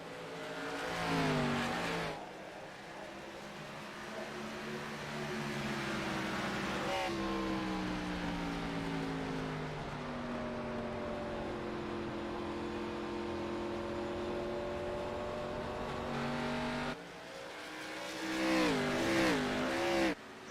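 Race cars lap New Hampshire Motor Speedway in an NSRL Grand National Series race, engines droning at a steady high pitch as one passes, with rising and falling revs at the start and end.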